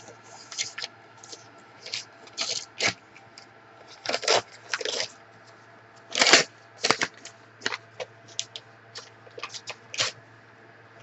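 Sheets of tea-dyed writing paper are shuffled and handled up close in repeated soft rustling bursts, crisp and papery, with short gaps between them and a faint steady hum beneath.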